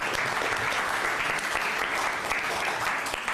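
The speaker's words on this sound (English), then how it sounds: "I applaud you all, and I think everybody should." Applause from an audience at a high school Model United Nations conference, a continuous even patter of many hands clapping at moderate volume with no talking over it.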